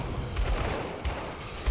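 Rapid bursts of explosions from the Stormbox skill in the video game Grim Dawn, a dense crackling fusillade of booming hits with low thumps repeating over a couple of seconds.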